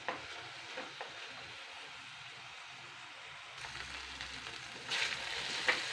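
Mint and tamarind cooking covered in a pan give a soft, steady sizzle and bubbling, quiet and close, with a few faint clinks and a louder rustle near the end.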